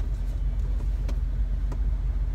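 Car driving around town, a steady low engine and road rumble heard from inside the cabin with faint occasional ticks, continuous and moderately loud with no talking.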